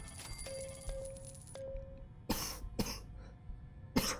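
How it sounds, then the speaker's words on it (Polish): Three sharp coughs ring out close by, spaced apart, after a faint electronic tone beeps in the background. "No przepraszam za kaszel."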